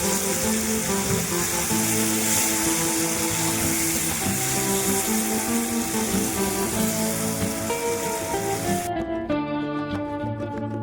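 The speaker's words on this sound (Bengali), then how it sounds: "আদাটা একটু ভেজে নিচ্ছি" Ginger paste frying in a pan, a dense steady sizzle filling the kitchen for about nine seconds before it abruptly cuts off, leaving a faint humming tone.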